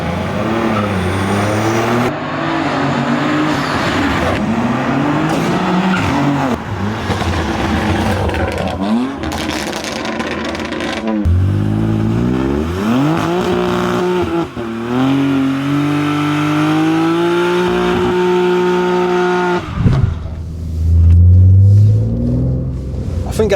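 A BMW G80 M3's engine, loud and close, pulls hard at full throttle, its pitch climbing again and again through gear changes, with a sharp rumble near the end.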